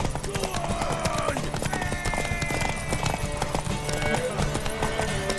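Horse hooves clip-clop steadily in The Witcher 3, with occasional whinnies, over dense game music and background noise; a voice speaks briefly over the galloping rhythm.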